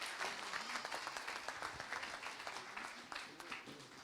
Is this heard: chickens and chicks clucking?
no